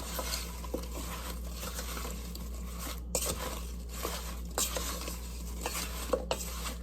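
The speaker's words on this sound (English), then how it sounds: "I'm gonna start mixing it." Apple crisp filling with cinnamon and apple pie spice being mixed in a bowl, repeated scraping and stirring strokes with occasional clinks of the utensil, close and moderately loud, no talking.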